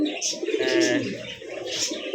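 Several pigeons at a busy pigeon farm coo in throaty, rolling bursts close by, with a few chirps, while people talk over them.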